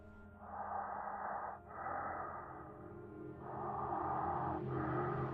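Slow, heavy breathing in a dark basement, close and quiet: long rasping inhales and exhales in a steady rhythm, with a brief pause between breaths and nothing else around.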